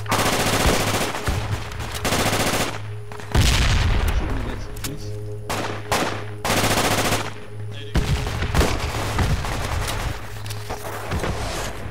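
Gunfire in the Battlefield 2 Project Reality combat game: rapid automatic bursts and heavy booming shots come in clusters with brief gaps, loud and close.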